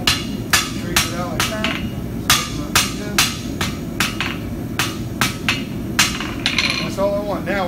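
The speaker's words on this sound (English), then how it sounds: "So I'm going to refine this just a wee bit with my hammer." A rounding hammer strikes hot steel on an anvil while forging a chef's knife, sharp ringing blows at an irregular quick rhythm, close and loud, with a low background rumble between strikes.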